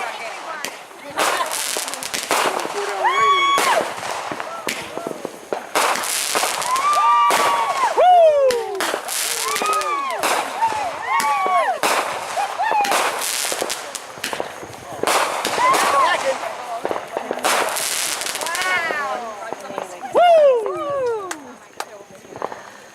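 Fireworks show with a rapid series of bursts, crackles and rising whistles across the whole stretch, some loud and close, with people talking and cheering in between.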